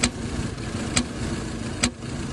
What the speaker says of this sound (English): If your car also makes this strange sound, stop the car immediately.